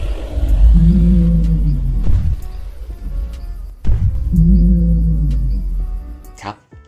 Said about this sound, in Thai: ถัดมาครับนี่คือเสียงทีเล็กจริงๆที่เขาคิดขึ้น